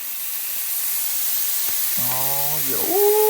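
A gas burner roars under a cooking pot outdoors, a steady loud hiss throughout, with a brief rising tonal whine near the end.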